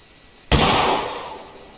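A single loud gunshot fires in the hunting video game theHunter Classic, a sharp close crack followed by a rolling echo that decays over about a second, with no talking.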